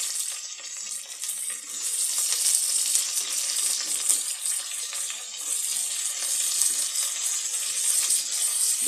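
Sliced onions frying in hot oil for country chicken biryani, a continuous bright, hissing sizzle holding steady and fairly close with no talking.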